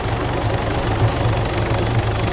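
Helicopter engine in the ArmA 3 video game, a steady, loud low rumble with a faint rhythmic rotor pulse, running continuously with no speech.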